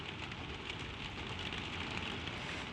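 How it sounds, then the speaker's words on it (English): Gentle rain patters steadily on a roof, a dense, even hiss of drops that stays soft and continuous with no voices. "The rain falls soft on the roof."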